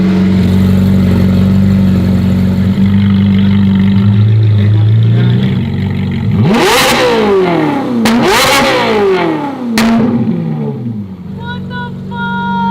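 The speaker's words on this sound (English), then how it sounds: "we'll do some revving here just so you guys can see no variables changing except the exhaust" A Ferrari fitted with an aftermarket F1 exhaust rumbles at idle, then rips through three sharp, loud revs that climb and fall back in quick succession, with voices talking around the car.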